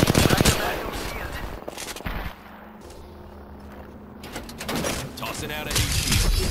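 Sustained automatic gunfire fills a Rainbow Six Siege match, with rapid bursts at the start and again near the end, a quieter patch in the middle, and game voice lines over the action.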